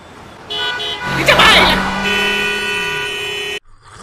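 Car horns honking at a traffic signal in a cartoon, a loud sustained blare joined by a second overlapping horn, with a busy burst of noise in the middle before the honking cuts off abruptly.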